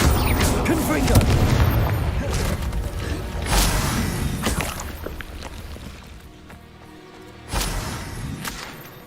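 Explosive Confringo blasting-spell bursts in Hogwarts Legacy boom out during combat, several loud impacts with whooshing spell effects and a final sharp blast, layered over game music and battle noise.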